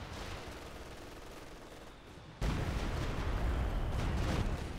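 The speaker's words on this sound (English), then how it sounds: "And the 120mm mortar is doing some heavy work there. Stuka now opening fire." Battle sounds from the World War II strategy game Company of Heroes 2, with a 120mm mortar and a Stuka firing: a continuous din of gunfire and blasts that jumps suddenly louder halfway through and stays thick and heavy, with no voices.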